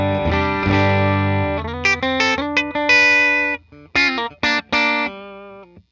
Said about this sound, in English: I'm going to play a little bit clean and dirty and just give you an idea of what the guitar sounds like